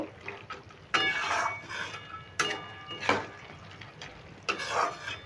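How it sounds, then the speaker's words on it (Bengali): A spatula scrapes and stirs sugar syrup in a pan while making bonde. Three or four brisk, moderately loud scraping bursts are spaced a second or two apart over a low background hiss. "এবার আমি খুন্তি করে ভালো করে নেড়ে সিরাটাকে মিশিয়ে নেব"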